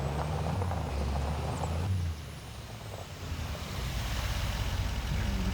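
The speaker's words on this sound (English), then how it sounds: "Get our truck turned around so that we can put our trailer away." A heavy truck pulling a trailer turns around in the Farming Simulator 25 video game, its engine rumbling steadily with a loud air-brake hiss partway through. It runs alone with no talk over it.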